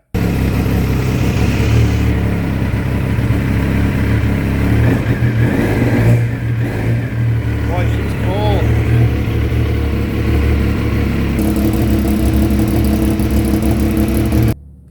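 A Triumph T595 motorcycle engine fires up cold and idles loudly and steadily, with a few revs rising above the rumble before it settles; a person talks over the running engine.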